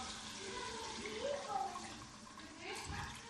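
Water, about four cups, pours into a cooking pot for pilau, a soft, continuous splashing stream with a brief swell near the end, heard quietly and close.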